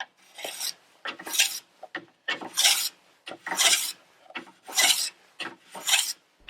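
Ski tuning tool filing along the edge of a new ski makes rhythmic rasping strokes, about ten of them in quick succession. The scrapes are close, loud and gritty, with short pauses between strokes.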